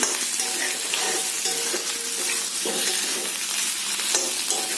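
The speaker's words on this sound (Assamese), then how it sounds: "এতিয়া আলুখিনি অকণমান ভাজি লওঁ।" Potato pieces fry in hot oil in a pan for a chicken curry, a loud steady sizzle broken by regular scraping stirs of a spatula, heard up close with no speech.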